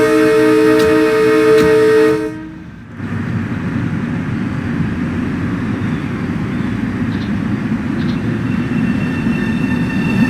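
A Metro-North M3A electric train on the Harlem Line gives a loud, tonal motor whine that cuts off sharply, then carries on as a steady, close rolling rumble of wheels on track.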